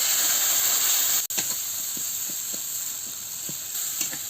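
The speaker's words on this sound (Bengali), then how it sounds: "মশলাটা একটু সামান্য জল দিয়ে মশলাটাকে ভালো করে কষিয়ে নিচ্ছি" Spice paste of ground spices with a splash of water sizzles steadily in a pan for a Bengali cabbage and poppy seed curry, with a soft scraping stir every half second or so and no talking.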